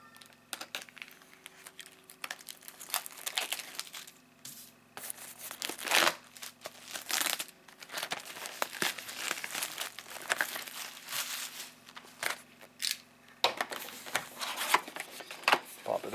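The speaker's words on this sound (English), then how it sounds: "so I'm going to cut the wrapper on it." Plastic shrink wrap on a sealed Magic: The Gathering Dragon's Maze booster box crinkles and tears in repeated close bursts as it is cut and peeled away, with soft handling noises between.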